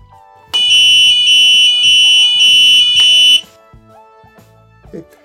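A loud electronic buzzer driven by an Arduino Uno beeps a rapid pulsing alarm tone for about three seconds, then stops, leaving faint background hum.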